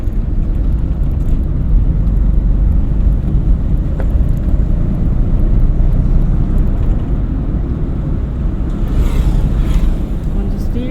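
Car engine rumbling steadily at close range during a driving lesson on a quiet road, with a constant low drone that swells slightly as it speeds up.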